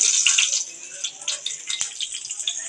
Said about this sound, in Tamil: நெக்ஸ்ட்டு சீரகம் நல்லா படப்படன்னு பொரியணும். இங்கே பாருங்கள், இந்த மாதிரி பொரியணும்.